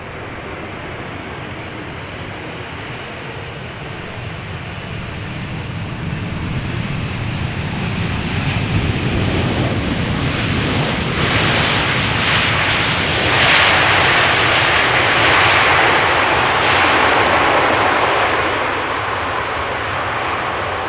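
An airliner lands in gusty crosswind at Amsterdam Schiphol Airport, its jet engine roar building steadily from a distance into a loud, broad rush that peaks and holds near the listener.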